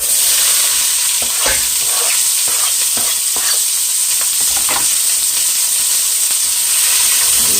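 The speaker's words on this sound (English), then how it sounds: "We're going to add our onions in there." Onions sizzle and fry steadily in a hot pan over medium-high heat, a loud continuous hiss with scattered crackles and occasional stirring scrapes, no voices.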